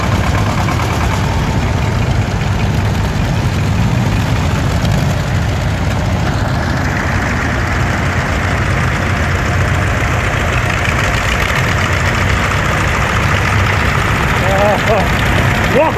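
Vintage tractors at the start of a rally in the Bieszczady mountains chug and idle in a loud, continuous low engine drone, with voices audible faintly beneath the running engines.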